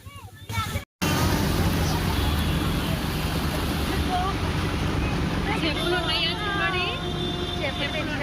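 An auto rickshaw driving through a flooded road in heavy rain, with a continuous loud roar of water, rain and wind noise, and voices talking over it.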